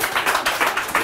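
Audience applause greets a guest arriving on a live radio show broadcast from Treptow, a steady patter of claps over one second, fairly close and evenly dense.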